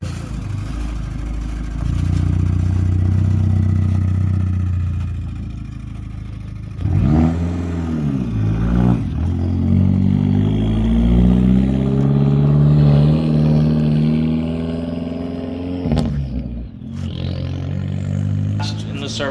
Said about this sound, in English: got the car running